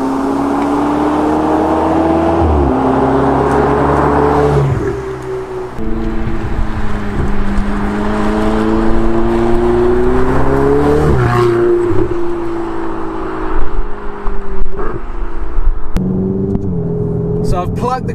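A turbocharged supercar accelerates hard in third gear, its loud, close engine droning and climbing in pitch, with several audible gear changes breaking the steady roar.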